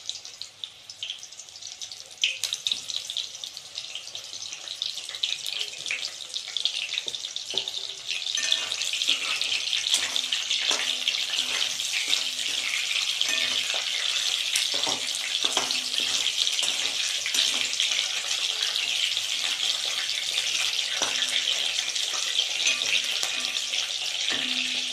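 Soybean chunks frying in hot oil, a steady loud sizzle that fills the whole stretch with faint clinks of stirring and no voices.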